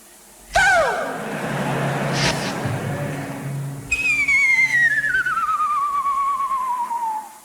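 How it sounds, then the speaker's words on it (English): Loud whistling in a live concert recording from a 1973 Shepperton performance, a sharp rising note followed by a long bright descending whistle over crowd and band noise. "What a whistle."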